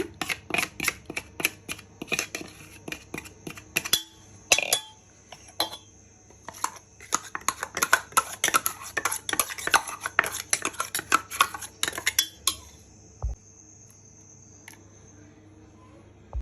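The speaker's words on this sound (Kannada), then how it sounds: "ರುಬ್ಕೊಂಡಿರೋದನ್ನೆಲ್ಲ ಹಾಕ್ಕೊಳ್ಳೋಣ." Ground masala paste is scraped from a container into cooked dal for an okra sambar, with rapid metallic clinks and taps of a spoon against steel vessels. These come in dense bursts that thin out toward the end.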